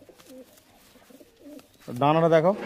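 A Nazra Kaldum pigeon in a loft gives a loud, close, rolling coo near the end, after a quieter stretch with faint voices in the background.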